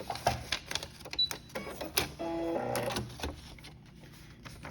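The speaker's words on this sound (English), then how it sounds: "as you get more confident with controlling the fabric, you'll sew a little bit faster" A sewing machine stitches fabric in short, stop-start runs with a clattering mechanical rhythm, heard close up in a quiet room during a beginner sewing lesson.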